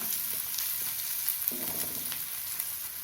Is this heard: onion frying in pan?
yes